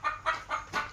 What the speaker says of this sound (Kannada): ಇಲ್ಲಿ ಕುತ್ಕೋದ ಕೋಳಿಗಳೆಲ್ಲ